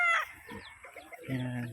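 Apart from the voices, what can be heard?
chickens clucking and rooster crowing on a farm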